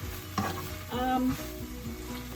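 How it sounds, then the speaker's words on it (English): Onions sauté in a pot for Zuppa Toscana soup, a close steady sizzle with a utensil stirring, scraping and knocking against the pot a few times. "Okay, our onions have softened up a little bit."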